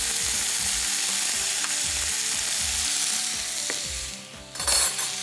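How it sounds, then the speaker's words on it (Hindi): Raw banana and ridge gourd for Bengali shukto sizzle loudly in a hot pan, a dense steady frying hiss with a faint repeating clatter underneath, easing slightly before a short burst of stirring at the end, with no talk. "अब इसके अंदर हम डालेंगे कच्चा केला। और उसके अंदर डालेंगे तुरई।"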